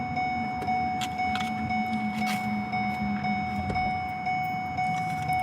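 Steady electronic warning tone from a parked car with the engine off and the driver's door standing open, a continuous pure beep held unbroken under faint cabin rustle and background noise.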